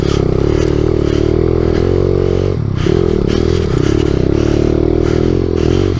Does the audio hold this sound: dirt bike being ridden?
yes